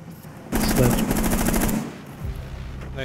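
Rapid automatic gunfire in Rainbow Six Siege, a loud burst of closely spaced shots lasting over a second on the Oregon map, followed by quieter game noise and a faint voice.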